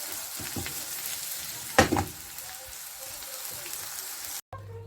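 Chicken spring roll filling sizzles steadily in a pan, a soft continuous crackle with a brief louder clatter of stirring midway, then a sudden cut to quiet near the end.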